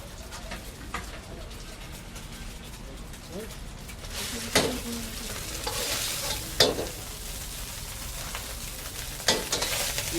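Chicken fried rice with egg sizzles and fries in a pan as a spatula stirs it, giving a steady hiss with occasional scraping clatters, close by, while birds coo faintly in the background.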